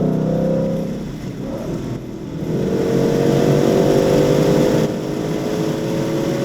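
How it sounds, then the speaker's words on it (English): A fast street car driving smoothly and accelerating, its engine drone steady and close with a rising tone and constant road noise throughout, no voices. "This car drives really smooth."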